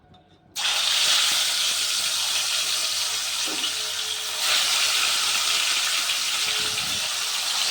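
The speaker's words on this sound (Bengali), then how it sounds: "এবার আমি একে একে মাছগুলো ভেজে নেব" Fish pieces frying in hot oil in a wok give a loud, steady sizzle that bursts in abruptly after a brief quiet start and holds, with a faint clink partway through.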